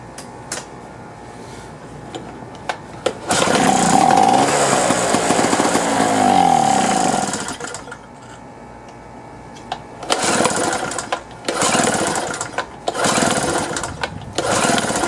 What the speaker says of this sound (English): Well, it cranked over when I primed